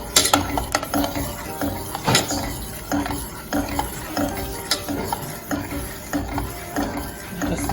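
Ingredients being stirred in a pot on the stove to melt them, with busy close scraping and clinking of a spoon against the metal and a faint sizzle underneath, continuous and fairly loud.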